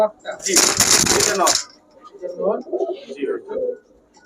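Orange chila high-flyer giribaj pigeons at a pigeon shop give soft, throaty coos after a brief rush of flapping, while someone talks over them.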